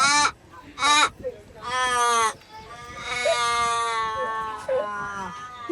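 A quokka gives a series of bleating, nasal, cat-like cries, some short and some drawn out, close by with brief pauses between calls, on Rottnest Island.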